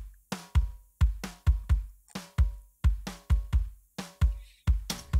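Hard rock/metal drum track programmed in EZDrummer2 and processed with a transient shaper, EQ and a brick-wall limiter: punchy kick and snare hits in a steady driving rhythm, each with a sharp attack and quick decay, played alone without talk.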